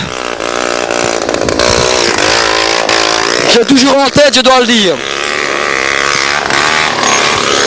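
Hercules motocross motorcycles racing at a 1985 event, engines droning and revving throughout, with a close bike roaring past mid-clip in a rising then falling sweep, all under continuous spoken commentary.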